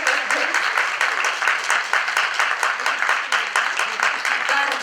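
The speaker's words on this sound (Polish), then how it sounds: "Wielkie brawa dla was." Lively applause fills an awards ceremony hall announcing a woman of the year, with many hands clapping in a brisk, slightly pulsing rhythm, close and loud throughout, with no speech over it.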